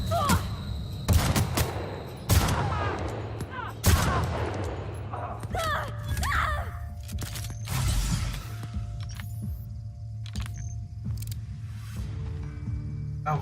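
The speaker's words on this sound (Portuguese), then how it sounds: "o cara dali tá atirando em mim" Gunfire in The Outer Worlds, sharp loud gunshots and bursts at irregular intervals with mechanical clanks and clatter between them, under talking voices.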